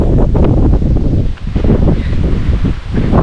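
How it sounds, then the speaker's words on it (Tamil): Strong wind buffets the microphone on a hilltop at Kanchanagiri Hills in Ranipet, loud roaring gusts that surge and dip with brief lulls and no voices. "செம்மையாக காத்தடிக்குது"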